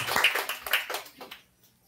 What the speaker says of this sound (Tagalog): Isang malakas na palakpak po para sa ating Panginoon.